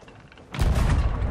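A heavy boom of ship cannon fire in Sea of Thieves bursts in after a quieter stretch, loud and close with a deep rumbling low end that sustains through the rest of the moment.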